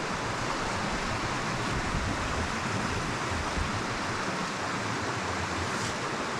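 Water of a moorland burn tumbles and breaks over stones in a steady, continuous rush, close and fairly loud, with no voices and no pauses throughout.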